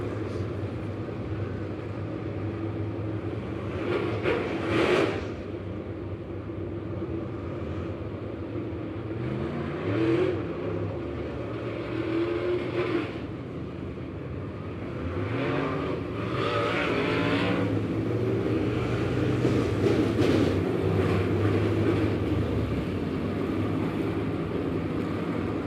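Dirt late model race cars run on a dirt track at the 4 State event in Lebanon, engines droning at a distance with several louder passes rising and falling.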